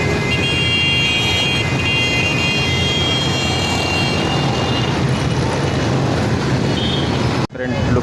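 Night road traffic at Korangi Crossing in Karachi during a 12 Rabi ul Awal gathering: a dense, continuous roar of engines with horns, loud and steady, briefly cut off near the end.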